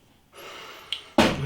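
A steady breathy hiss lasting under a second, like gas escaping from a freshly opened bottle of Liefmans Goudenband Belgian ale, followed by a sharp louder burst.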